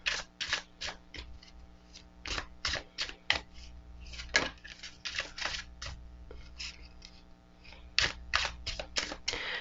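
Halloween-themed tarot cards on typical US Games cardstock riffled and shuffled by hand: a rapid run of crisp, close papery flutters and snaps in bursts with short pauses, no talking.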